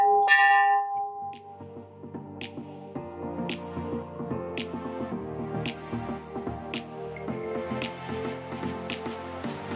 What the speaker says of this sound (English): You have to ring this bell so they open the door downstairs.